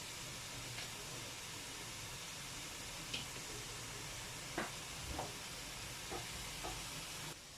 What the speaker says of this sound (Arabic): دونك البصيله هي كتقلى كما شفتوا.